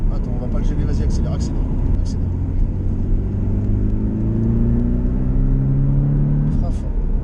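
A Porsche Cayman 718T accelerates hard on a race circuit, its engine note climbing steadily in pitch as the revs rise, heard from inside the car under continuous engine roar while an instructor talks over it.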